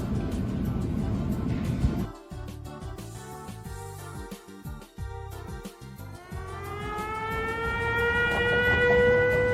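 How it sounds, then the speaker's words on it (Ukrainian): A wailing air raid siren in Kharkiv, Ukraine, rises and holds over a low engine-like rumble, with a stretch of choppy mechanical noise before the tone swells. "Увага! Повітряна тривога. Пройдіть найближче укриття."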